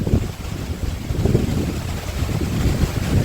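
Gusty wind rumbles against the microphone in a steady low roar along the River Rhine, fluctuating slightly, with no voices.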